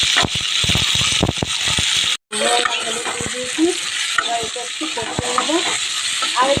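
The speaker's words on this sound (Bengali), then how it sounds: "নুন হলুদ দিয়ে দিয়েছি, এবার এটা একটু কষিয়ে নেবো।" Onion, tomato and mixed vegetables with salt and turmeric sauté in a hot pan, a steady close sizzle broken by repeated scraping clicks of stirring, with a faint voice murmuring in the background.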